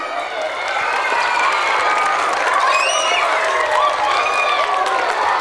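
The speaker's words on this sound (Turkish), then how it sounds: "hocama bir alkışlayın" Loud, sustained applause from a large crowd at a Turkish primary school event, dense clapping with some cheering and high-pitched shouts mixed in, steady throughout.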